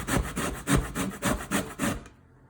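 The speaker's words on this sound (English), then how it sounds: "Well, it's not grating that well. It might just be that this lemon is a little bit old." An old lemon is grated, its rind scraped against a metal grater in about seven even rasping strokes, close and clear, ending abruptly with no talk.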